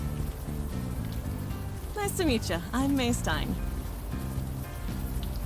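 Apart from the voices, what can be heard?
rain falling, from the video game Unavowed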